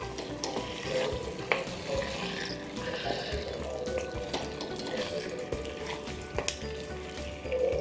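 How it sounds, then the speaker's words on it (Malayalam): Chicken butter masala is stirred in a pan, a steady close sizzle broken by sharp spatula knocks and scrapes against the metal. "നന്നായി ഒന്ന് ഇളക്കി കൊടുക്കുക."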